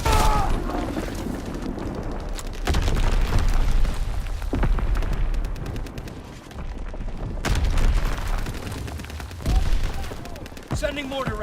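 Azon bomb strikes in Call of Duty WWII multiplayer: heavy booms and rumbling blasts roll in bursts with gunfire crackle, while in-game voice callouts and chatter run over the top.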